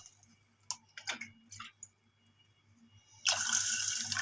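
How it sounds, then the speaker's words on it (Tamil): Water poured into a bowl to soak rinsed millet with sago, a steady close splashing rush arriving after a few soft clicks and handling taps. "இப்போ தண்ணியை ஊற்றி ஊற வச்சுக்கலாம்."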